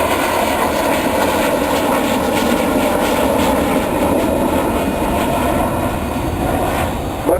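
The Avro Vulcan XH558 bomber roars overhead during a flying display at RAF Waddington, a loud, continuous jet-engine rumble with a broad rushing texture that stays heavy throughout, with no talking.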